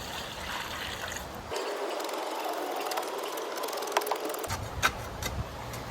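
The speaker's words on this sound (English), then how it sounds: "Now all you do is add water" Water pours steadily into a post hole packed with rapid set concrete, a continuous rushing wash lasting a few seconds at close range, with no voices.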